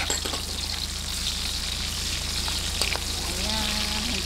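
Onions sautéing in a pan for classic Filipino lomi, a steady broadband sizzle holding at an even level throughout, with faint clinks and a soft whistle-like tone near the end.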